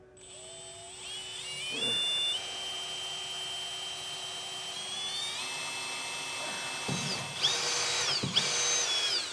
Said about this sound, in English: So I'll just go ahead and get that drilled now.